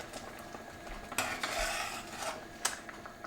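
A spoon stirs simmering Gujarati dal in a pot, giving a few soft scraping strokes and a couple of light clinks against the metal over a quiet bubbling background.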